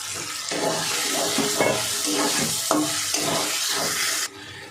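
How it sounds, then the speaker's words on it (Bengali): Pre-fried potatoes are stirred and sautéed in oil for a vegetarian potato-paneer curry. A continuous close sizzle runs under repeated scraping strokes of a spatula against the pan, which cut off abruptly near the end. "এবার ভেজে রাখা আলুটা দিয়ে দেবো। আলুটা দিয়েও একটু কষিয়ে নেব।"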